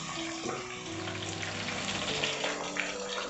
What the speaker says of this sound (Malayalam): കുക്കർ അടയ്ക്കാതെ നമുക്ക് 5 മുതൽ 10 മിനിറ്റ് വരെ ഒന്ന് ഫ്രൈ ചെയ്യണം